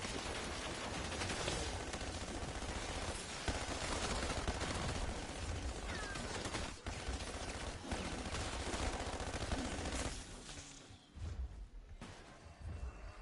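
Sustained, dense automatic gunfire in Call of Duty Black Ops 7 Zombies, loud and continuous for about ten seconds with brief gaps, thuds and crashes mixed in, then sputtering bursts.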